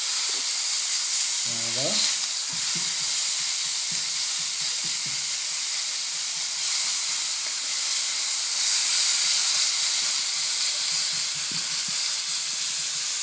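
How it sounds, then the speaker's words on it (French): Steak sizzles and fries in a hot pan, a loud, steady hiss and crackle that goes on throughout, with one brief spoken word near the start. "Nous allons laisser un peu cuire l'autre côté du steak"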